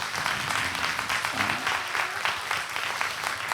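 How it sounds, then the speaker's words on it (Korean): Church congregation applauding the youth during a youth-led worship service, a steady wash of many hands clapping at moderate level, with faint murmuring beneath. "우리 청년들을 위해서 한번 박수 한번 부탁드립니다"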